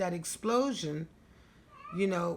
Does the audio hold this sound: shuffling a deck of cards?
no